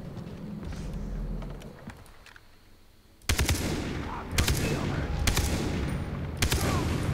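Automatic gunfire in the Far Cry 3 video game: loud, rapid bursts of shots arrive suddenly after a quieter stretch and keep crackling in repeated volleys to the end.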